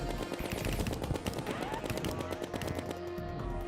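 Rapid automatic gunfire from the player's weapon in Terraria, a dense stream of repeated shots running continuously and loudly throughout.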